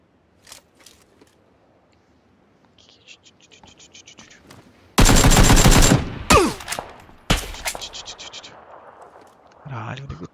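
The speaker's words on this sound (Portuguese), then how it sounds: "Caralho, o nego tá atirando em mim" Gunfire in a shooting video game: quiet at first, then two loud close bursts of rapid automatic fire around the middle, with faint whispered talk and small clicks between them.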